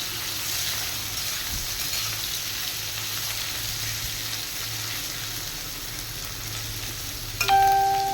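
Bitter gourd (karela) frying fast in hot oil, a dense continuous sizzle and crackle close up, steady throughout, with a brief knock or clatter near the end.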